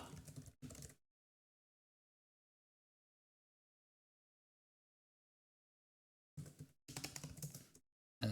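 Computer keyboard typing comes in two short bursts of rapid, clattering keystrokes separated by a long silence, close and clear.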